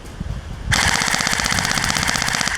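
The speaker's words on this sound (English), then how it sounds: "So I just keep running it on full auto with the 100 round extended magazine." Electric airsoft SMG, an SSG18 in a carbine kit with a 100-round extended magazine, opens up on full auto after a short pause, giving a loud, rapid, steady mechanical rattle of shots at close range.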